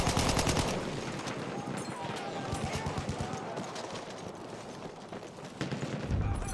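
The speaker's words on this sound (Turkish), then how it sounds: "Makinalı tüfek." Machine gun fire in the Battlefield 1 video game comes in rapid, loud bursts that crackle over constant battlefield noise, ending in a final burst.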